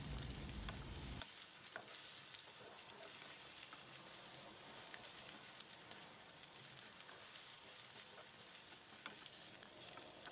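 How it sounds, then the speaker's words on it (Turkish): Potatoes fry with onions in a pan while being stirred, a soft steady sizzle with scattered scraping clicks, faint and close, after a brief louder rumble at the start. "Soğanların kokusu çıkınca üzerine patatesleri ekleyelim. Ve karıştırarak kavurmaya devam edelim."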